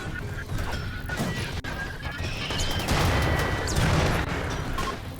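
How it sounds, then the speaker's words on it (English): Turret gunfire and explosions in RimWorld, a dense continuous barrage of crackling shots and booms with bursts swelling louder midway, steady and busy throughout. "getting some explosions"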